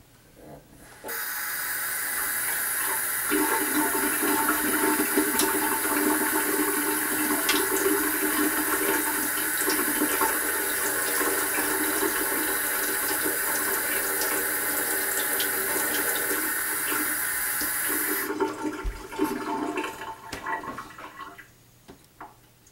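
Water runs steadily from a bathroom sink tap for about seventeen seconds, a broad continuous hiss that starts abruptly and cuts off, leaving faint drips and handling noise.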